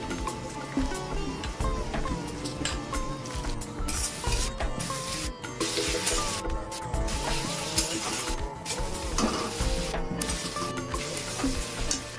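Onions fry in a pan as a Bengali pabda fish curry is being made, a close sizzle mixed with clattering utensil knocks and scrapes, no speech.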